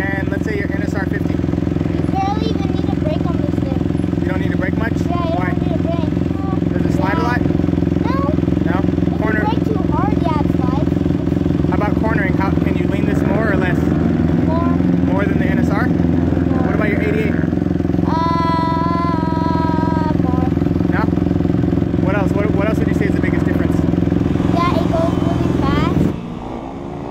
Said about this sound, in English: he's being followed by Fonzie, who's riding a Kawasaki Ninja 250.